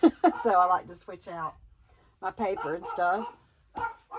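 Brody the dog lets out a couple of quick barks at a person walking down the road, heard briefly at the start and then overtaken by someone talking close by.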